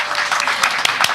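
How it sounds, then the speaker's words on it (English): Applause from an audience at an annual members meeting and party, a steady dense wash of clapping through the short moment with a few sharper claps standing out. "So let's give her a round of applause for her."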